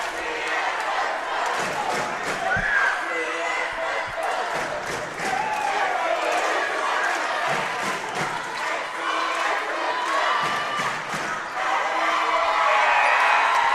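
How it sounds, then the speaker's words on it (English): Crowd at a varsity boys basketball game in a gym, with a rival school's cheering squad chanting and yelling in loud, sustained roars, shouts rising over the din and a commentator talking through it. "Suburban wants to join in with a little bit of their cheering squad too."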